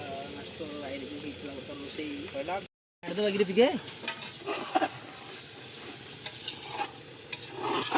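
Potatoes for a chicken kasha curry are stirred and fried in a pan, close scraping and stirring with a steady sizzle, briefly cut off, while someone talks over it.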